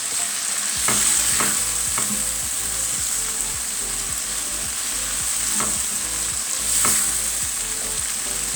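Mushrooms and tomato fry in a pan with a steady, even sizzle, while a utensil stirs and scrapes through the vegetables in a few distinct strokes. No one speaks.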